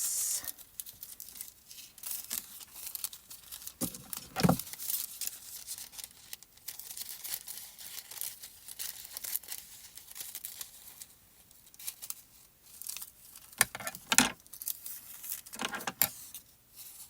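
Scissors cut cobalt blue foil paper for a card kit, faint crinkling and scattered sharp snips and rustles at close range, no talk.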